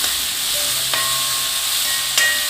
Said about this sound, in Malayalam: നന്നായിട്ട് ഇളക്കി കൊടുക്കാം അത്ര മതി ചുവപ്പ് നിറമൊന്നും ആവണ്ട